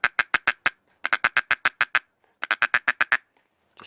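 A duck call makes a rapid series of short, nasal clucks in three quick bursts separated by brief pauses, close and clear with no other sounds.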